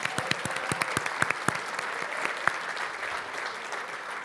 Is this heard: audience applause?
yes